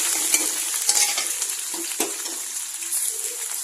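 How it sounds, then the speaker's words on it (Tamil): Mustard seeds spluttering in hot oil for tempering, with ginger, garlic, fennel, curry leaves and dried chillies nearby: a steady close sizzle with scattered sharp pops and crackles, no talk. "அது கடுகு பொரியட்டும். பொரிஞ்சோடனே இதை போட்டுருவோம்."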